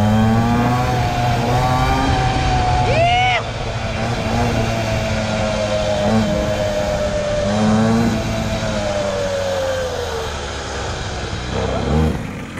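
Loud, close mini motorcycle engine racing on hot asphalt, a buzzing drone that rises and falls in pitch as it revs, with a brief sharp squeal around the third second and a sustained low hum underneath.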